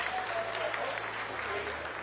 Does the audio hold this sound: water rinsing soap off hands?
no